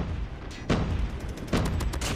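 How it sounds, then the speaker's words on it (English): Friendly airstrike explosions in a Call of Duty multiplayer match, two sharp booming blasts about a second apart, loud and close, over steady battlefield noise. "Friendly airstrike."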